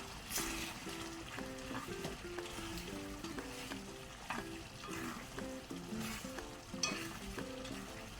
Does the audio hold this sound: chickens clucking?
no